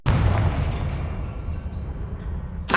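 A Confringo explosion spell in Hogwarts Legacy goes off as one loud, close boom that fades into a long rumble. A sharp new burst starts right at the end.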